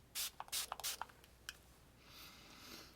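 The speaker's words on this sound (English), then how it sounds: "This smells nice, but that is an aggressive mist." Several short, forceful hissing bursts of spray fire in quick succession, close by, followed by a softer lingering hiss.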